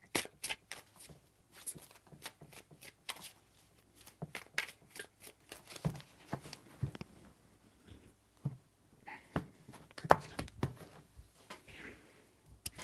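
Tarot cards are shuffled close by in a string of quick riffling and slapping bursts, with brief pauses between them and no talking.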